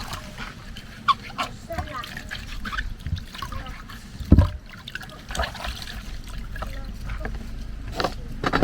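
Fruit for a tilapia and yam pepper soup is rinsed in water, with soft sloshing, trickling and small splashes that come and go irregularly alongside occasional handling knocks.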